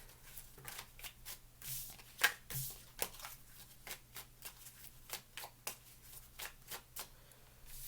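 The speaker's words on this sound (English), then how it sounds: "I need to move all my cards out of the way here." Tarot cards are shuffled and shifted by hand on a table, giving close, crisp riffling snaps and soft slides in an irregular rhythm against a low steady hum. No one talks.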